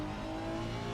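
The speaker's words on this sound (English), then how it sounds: "The car is exiting the pits." A Honda NSX GT3 EVO race car engine drones steadily as it exits the pits at Spa in Assetto Corsa Competizione, a sustained tonal hum at even, moderate level with no talk.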